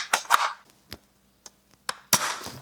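A Nerf Elite 2.0 Quad Shot toy blaster firing, a handful of sharp, close snaps and clicks spaced irregularly, with a louder burst of shots at the start and end.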